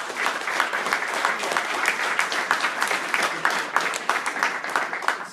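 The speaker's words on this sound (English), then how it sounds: "I want to give them another round of applause" A large crowd at an athletic hall of fame induction ceremony claps steadily and densely for several seconds, the sustained applause filling the hall with no break.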